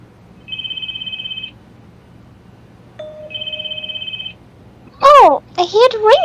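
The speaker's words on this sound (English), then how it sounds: "Oh, I hear it ringing." Phone ringtone in the video game Spirit Hunter NG: two separate bursts of rapid, trilling electronic ringing about a second long, clear and close, followed by a voice speaking.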